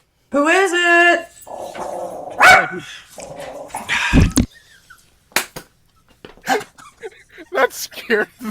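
A dog barks and growls loudly up close in several sharp bursts, followed by scattered clicks and light knocking as people speak.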